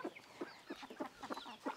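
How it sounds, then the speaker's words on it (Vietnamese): Chickens and large roosters at a rural African homestead, with repeated clucks arriving in a steady, evenly spaced rhythm at close range, moderately loud against quiet background noise. "Gà, mọi người trông gà này."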